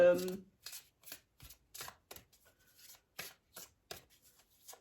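A deck of oracle cards is shuffled close up in a quiet room, with about a dozen crisp, irregular riffling bursts after a brief bit of speech at the start.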